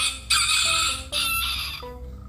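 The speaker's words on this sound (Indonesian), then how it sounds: "ini ada hewan yang namanya ayam jantan" A rooster crows twice in quick succession, a loud, strained cock-a-doodle-doo with a short cluck after it, close and clear with no talk.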